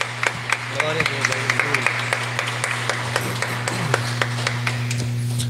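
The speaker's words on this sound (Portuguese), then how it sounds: "as tuas palmas podem aplaudir ao nome de Jesus, as palmas podem glorificar o nome do Senhor." A church congregation claps in scattered, steady beats during a worship service, with a low sustained hum and some voices running underneath the clapping.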